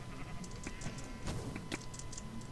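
Sheep bleating in the Minecraft video game, a few faint game bleats over a busy, noisy background of game effects.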